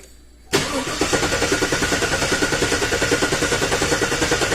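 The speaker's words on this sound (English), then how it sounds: "Have my assistant crank it over." A 2014 Chevrolet Silverado pickup engine with an intermittent no-crank fault cranks over with a steady rapid chugging rhythm after a brief quiet start, loud and close, continuing throughout.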